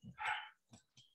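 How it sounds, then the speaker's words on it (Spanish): A small dog gives a short bark followed by a couple of brief yips, close and fairly quiet in an indoor setting, with no speech. "tengo los perritos que están al Garetowski"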